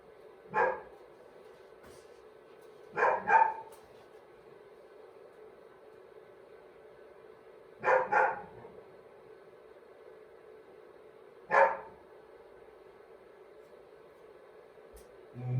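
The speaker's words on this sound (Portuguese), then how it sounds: "vocês estão ouvindo a minha dog aí, não para de latir" A dog barking repeatedly indoors, short bursts of one or two barks spaced several seconds apart over quiet, steady background hiss.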